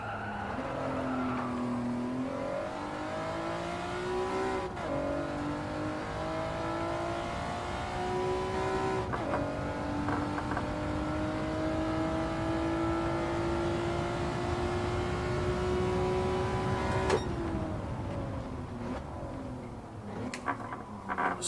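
An engine in Gran Turismo 7 revs and climbs in pitch as the car drifts through a corner, holding a steady high whine with a few sharp shifts or lifts, loud and continuous with no voices.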